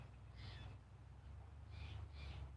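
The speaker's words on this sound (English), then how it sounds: "Mostly different kinds of birds." Birds call outdoors in a quiet spot. There are a few faint, short calls, one early and two close together later, over a low, hushed background.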